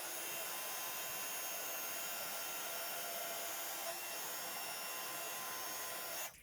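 A heat embossing tool blows a steady, close whirring hiss while melting specialty embossing powder over a crafting background, running continuously and cutting off abruptly at the end.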